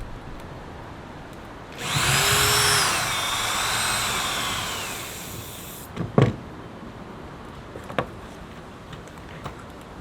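A power drill drives securing screws into deck boards, one sustained whirring burst of about four seconds with a pitch that rises and falls, close and loud, then a few sharp knocks and clicks afterward.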